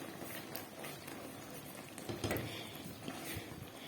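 A spoon keeps stirring a thick sugar syrup cooked with orange-peel purée in a pot, a faint, continuous scraping and bubbling with occasional louder knocks.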